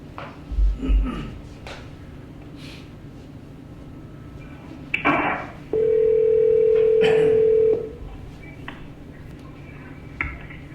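A steady telephone tone sounds for about two seconds amid faint background noise and a few soft clicks, as a call is placed to a cab company.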